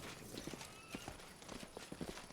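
Horse hooves clip-clopping in the fantasy game Pathfinder: Wrath of the Righteous, a steady walking rhythm of soft, fairly quiet thuds repeating across the clip.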